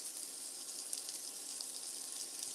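Meat with a fat cap and chili oil sizzles in a pan, a soft, steady crackling hiss heard faintly and alone, with small pops scattered through it.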